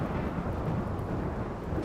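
Thunder from a lightning storm in the Rimworld video game rolls as a steady, dense low rumble for the whole stretch, with no one talking over it.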